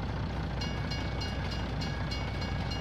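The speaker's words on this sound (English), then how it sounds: "this train's longer than what was in, like, the standard Giants map" A train runs in the video game Farming Simulator 19, giving a steady rolling rumble with faint rhythmic clacks and a high thin whine, even and continuous with no voices.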